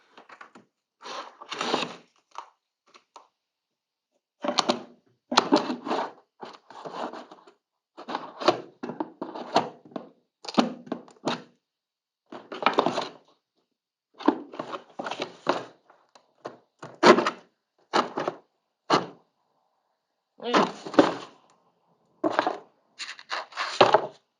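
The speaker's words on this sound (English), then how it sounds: "So now I'm going to use these scissors and do some snips." Scissors snip and saw through a cardboard box around a Samsung S21 Ultra phone box, a long run of close, irregular crunching cuts in short bursts with brief pauses between them.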